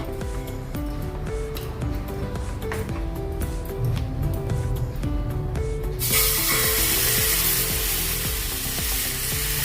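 Oil hits a hot pan for a quick Indian breakfast dish and sizzles, starting over steady clicking and rhythmic tapping, then swelling into a loud, continuous hiss that fills the last few seconds.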